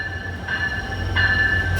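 Rupsi Bangla Express intercity train from Dhaka arriving at a platform, a steady low rumble with sustained high tonal ringing that swells twice in a short burst.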